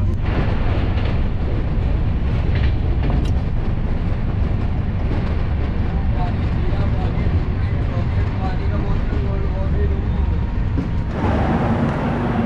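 Jaipur–Delhi AC Double Decker Express pulling into Dausa railway station: a continuous loud rumble of rolling wagons with faint clatter, steady throughout, with a brighter hiss near the end.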